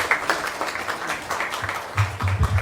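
An audience at a dinner hosted by President Mohammed Irfan Ali for hinterland students claps to welcome him to the microphone, a dense, even round of applause with some low rumble near the end.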